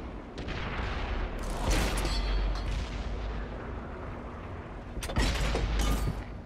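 An M8A1 light tank's gun firing in World of Tanks on PS4 console: heavy, sharp blasts stand out twice over a steady background rumble of battle, each one loud and close.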